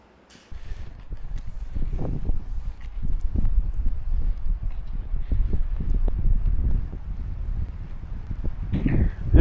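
Steady wind rumbles and buffets against the mic in open snow on a ski trek through a nature reserve bog, a continuous low roar that swells slightly toward the end.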